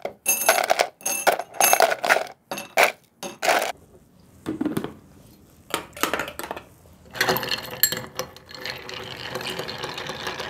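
Ice going into a cocktail shaker for a Jägermeister cocktail: a quick series of hard clattering cubes, then a pause, then a steady rattling wash of ice shaken in the tin, close and fairly loud.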